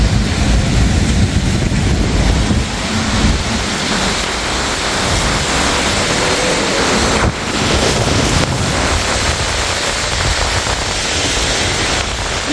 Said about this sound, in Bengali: ভীষণ জোরে হাওয়া চলছে, তোমরা তো সাউন্ড বুঝতেই পারছো।